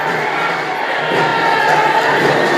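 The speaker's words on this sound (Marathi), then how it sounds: "आपण पाहू शकता कार्यकर्ते जल्लोषात आहेत" Party workers celebrate election results with a dense, loud crowd roar of cheering and shouting that holds steady and rises slightly toward the end.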